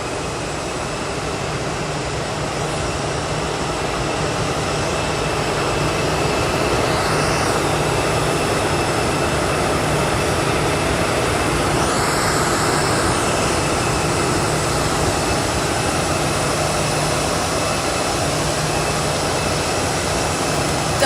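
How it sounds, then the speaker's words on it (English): Southwest airliner in the California One livery arriving at Boise airport, a steady broad jet roar that swells and holds at moderate distance with a faint whine on top, no voices. "there's our Southwest in the California 1 livery,"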